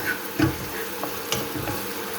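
Onions sizzling as they go into a hot pan for Filipino cooking, a steady close frying hiss with a few soft stirring scrapes and knocks.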